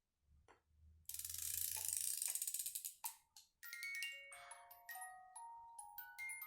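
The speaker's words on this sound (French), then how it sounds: "n'oublions pas la boîte à musique. Je tourne la clé." The key of a music box being wound, a rapid close ratcheting click that runs in bursts and then gives way to the box's bright plucked tinkling notes.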